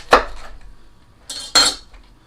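A knife cuts through cabbage onto a cutting board in three sharp, close strikes: one single chop, then two quick ones in succession, each with a crisp crunch and clack and no talking.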